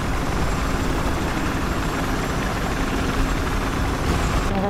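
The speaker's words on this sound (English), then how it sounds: "Here, get in the chopper." A helicopter in Battlefield Hardline: a loud, steady rotor-and-engine roar holding constant throughout, close and dense with no pauses.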